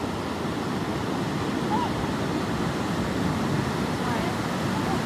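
Ocean surf rolls in steadily at a San Diego beach where people are surfing, a continuous broadband wash with wind buffeting the microphone and no distinct individual wave breaks, heard alone.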